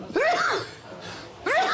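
A man sneezes twice in quick succession, sharp and close, with a short pause between the two bursts.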